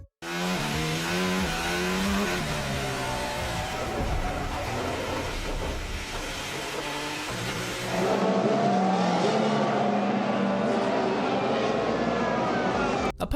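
Toro Rosso Formula 1 car with Max Verstappen driving, racing at Sao Paulo, a loud high engine whine rising and falling through the gears, joined by more screaming engines partway through.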